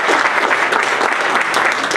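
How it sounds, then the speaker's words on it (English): A room of meeting attendees claps steadily for volunteers in youth services, a brief, dense burst of applause from many hands. "All right, round of applause for y'all."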